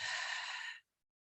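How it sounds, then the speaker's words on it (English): A single long exhale through the mouth after a deep breath in, close and soft, about three-quarters of a second of airy breath, then silence, during a guided meditation. "breathing in through the nose and breathing out through the mouth"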